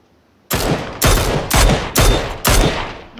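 Five loud, sharp gunshots in a shooter game, spaced roughly half a second apart, each with a booming decay, close and alone with no talk.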